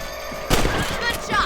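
Gunfire in a Red Dead Redemption shootout on a ranch: a burst of loud, close shots begins midway and continues in overlapping cracks and thuds against a busy game soundscape.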